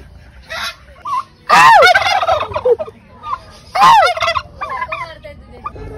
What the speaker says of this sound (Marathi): हा आहे राजहंस, पेरूच्या वाडीचा